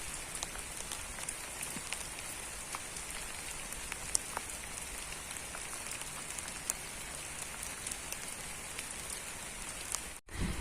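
Steady rain falls in a garden with roses in bloom, a constant soft patter of drops with occasional sharper taps, faint and continuous with no voices.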